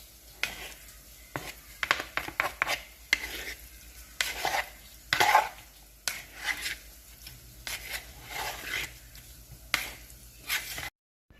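Ingredients for vegan veggie sushi rolls being mixed by hand or utensil in a bowl, giving a run of close, irregular squishy stirs and clicks that stop and start over several seconds, with no talking.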